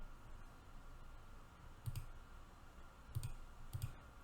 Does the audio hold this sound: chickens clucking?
no